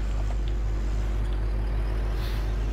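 A tractor engine in Farming Simulator 17 runs as a steady, low droning hum with a constant rumble throughout, and no voices are heard over it.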